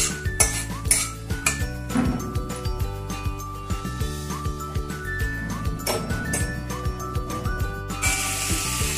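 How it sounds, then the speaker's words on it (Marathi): Peanuts are stir-fried in a pan with oil for a Maharashtrian churma made from leftover chapatis, giving busy, rhythmic clinks and scrapes of a spatula against the metal pan, close and steady throughout. "थोडेसे शेंगदाणे चांगले परतून घेऊया।"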